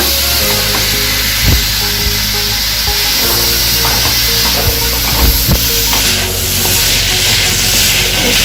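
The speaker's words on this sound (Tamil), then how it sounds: "இதை போட்டு நல்லா வதக்கிடணுங்க." Peas and mixed vegetables sautéing in a pan for veg kurma, a continuous close sizzle with occasional stirring knocks and scrapes, no talk.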